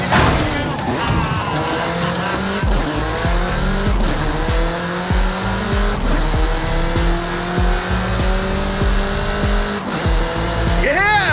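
A car in Forza Horizon 5 on PS5 roars along at speed, its engine note rising and falling as tires squeal through turns, steady and close, with a navigation voice talking over it.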